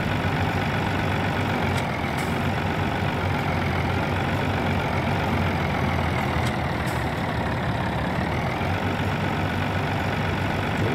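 A tractor engine idles in the farming game Landwirtschafts-Simulator 19, a steady, loud, low rumble that drones on unbroken with no talk over it.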